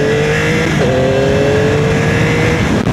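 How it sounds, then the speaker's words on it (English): A loud Yamaha R9 motorcycle engine drones steadily at low revs in first gear, its pitch holding level with a slight shift partway through, close and continuous with no talk. "you might be able to hear kind of the revs and hear the engine RPM"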